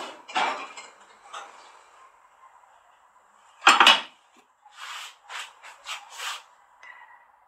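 A knife cuts through a hot milk dessert in its pan, giving a few separate scraping clatters of metal on the dish with quiet pauses between them.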